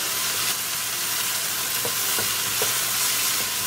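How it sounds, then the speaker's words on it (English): Tadka frying in a pan for a shrimp and potato curry, a steady broadband sizzle with a few soft stirring taps, close and continuous with no talking. "And now we're going to cook our tadka really well."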